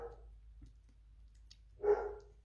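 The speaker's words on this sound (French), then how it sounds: "Je suis désolée pour le chien qui aboie." A dog barks twice, once early and once louder near the end, with a quiet background between the barks.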